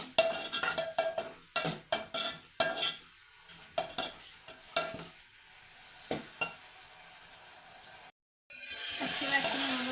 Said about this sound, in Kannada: ಪೇಸ್ಟ್ ಹಾಕಿ ಈರುಳ್ಳಿ ಫ್ರೈ ಮಾಡ್ಕೊಳ್ಳಿ ಚೆನ್ನಾಗಿ.